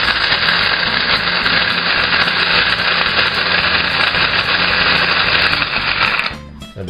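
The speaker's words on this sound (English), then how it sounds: "which in my case will involve pulverising walnuts" A powerful kitchen machine grinds walnuts for a carrot cake topping with a loud, steady, buzzing roar that runs unbroken for several seconds and then cuts off abruptly near the end.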